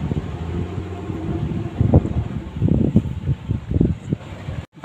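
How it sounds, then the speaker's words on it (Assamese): Wind gusts outdoors at Sitajakhala, Assam, rumbling against the microphone in uneven bursts, with a steady low hum beneath and a sudden dropout near the end. "ইমানেই ধুনীয়া বতাহ দি আছে"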